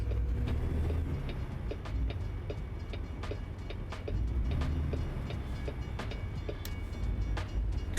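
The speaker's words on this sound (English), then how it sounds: "Still have to wait for the train anyway." A train passes in American Truck Simulator, a steady rumble with a rhythmic clickety-clack of wheels over rail joints, continuous and fairly loud with no talk.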